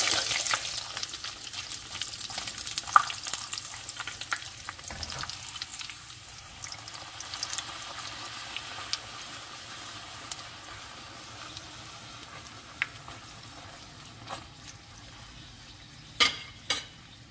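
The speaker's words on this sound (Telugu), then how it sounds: "ఆయిల్ తక్కువగా వేసి ఫ్రై చేస్తాను." Bhatura frying in a small amount of oil gives a continuous soft sizzle with faint stirring clinks and a few sharper scrapes near the end.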